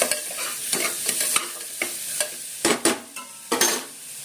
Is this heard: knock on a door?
no